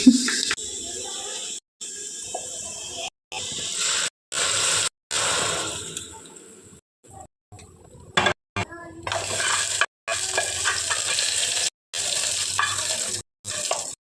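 Vermicelli payasam cooks in a pot, with bursts of bubbling, stirring and scraping broken by abrupt silent gaps, close and moderately loud, with a short quiet stretch midway.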